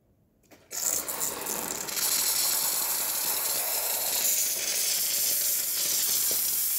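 The steam wand of a Jura Impressa S9 coffee machine bursts into a loud, steady hiss after a brief quiet start and keeps blowing strongly to the end.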